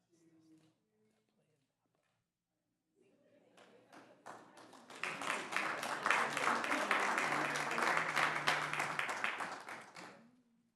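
A school board meeting audience bursts into applause and cheering, building from scattered claps to a loud, sustained ovation with shouts and whoops before fading.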